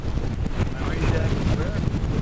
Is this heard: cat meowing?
no